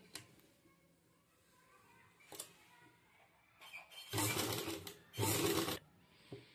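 A sewing machine stitches a short sleeve, close by, running in two loud bursts of about a second each separated by a short pause, after some faint clicks and handling.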